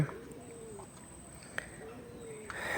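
Soft, low cooing of racing pigeons in a loft repeats a few times, close by, with a faint click or two and quiet background noise.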